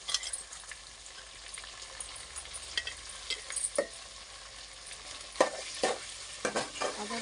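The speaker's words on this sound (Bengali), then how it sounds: "এই মাংসগুলোকে ভালো করে কষে নেওয়া হবে" Meat fries in a pan with ginger garlic paste for biryani, a soft steady sizzle broken by repeated scraping strokes of a stirring spoon, close but fairly quiet.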